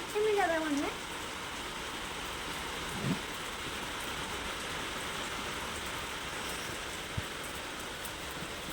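Rain falls outside a shop as a steady, even hiss of drops that continues unchanged throughout, with a brief voice at the very start and a couple of faint knocks.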